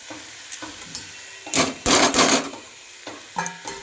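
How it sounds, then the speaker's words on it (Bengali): Pea greens (matar shak) cooking with brinjal being stirred in a pan, short bursts of scraping and rustling from a spatula, with a louder, longer stretch of stirring in the middle, close by and with no voices. "এবার শাকগুলোকে নাড়াচাড়া করব।"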